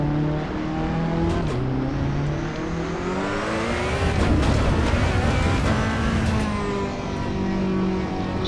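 A race car engine in Assetto Corsa EVO hums and revs continuously at a steady, moderate pace on cold tyres, its pitch rising and falling through gear changes with a brief whoosh midway.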